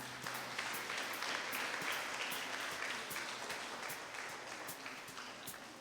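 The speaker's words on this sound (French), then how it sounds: "Je vous prie d'applaudir tout le monde." A church mass audience gives sustained applause, a full, even clapping from many people with a few sharper individual claps standing out, slowly fading toward the end.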